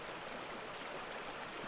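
Rushing water of the Huatulco River flows steadily, a dense, even hiss and gurgle heard close and unbroken, with no voices.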